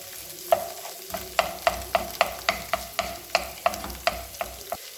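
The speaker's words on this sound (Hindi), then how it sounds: "तीनों को अच्छी तरह मिक्स करना है ताकि गाजर जो है वो नरम हो जाए" Carrots and mixed vegetables are stir-fried for egg fried rice, with a spatula scraping and knocking the pan in a steady rhythm of about a dozen close, sharp strokes over a low sizzle.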